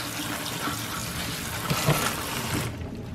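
Strawberries are rinsed under cold running tap water, a loud steady rush and splash that holds for about three seconds, then stops abruptly, with no talking.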